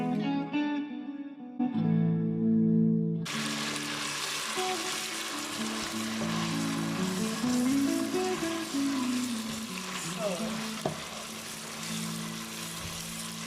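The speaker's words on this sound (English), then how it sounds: "So I'm going to fry this one now with these onions." After a few seconds of tonal sound, a steady, close sizzle of tomatoes and onions frying in hot oil fills the rest of the clip.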